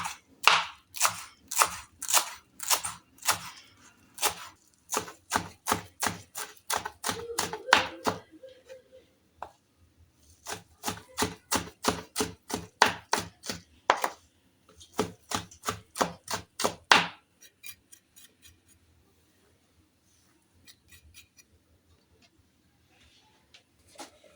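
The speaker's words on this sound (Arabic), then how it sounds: "دابا نقرط شويه د الربيع" A knife chops fresh parsley and coriander on a board in quick, sharp, evenly spaced taps, coming in several bursts separated by brief pauses before it fades to near silence at the end.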